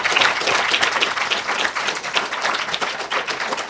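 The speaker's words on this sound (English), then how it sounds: "A big round of applause for Magdalena Góra." Audience applause after an academic talk on the European Union, a loud dense burst of clapping from a room full of listeners that carries on steadily throughout.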